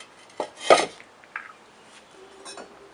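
Ceramic bowls and casserole dishes handled by a potter give a few light clinks and scrapes, one sharper clatter near the start and softer touches after, in a quiet room.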